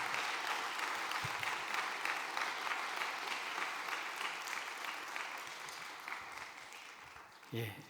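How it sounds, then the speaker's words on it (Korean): Congregation applauding at a church worship service, a steady broad wash of clapping from a large group lasting several seconds before tapering off. "다시 한번 박수로 격려해 주시기 바라겠습니다"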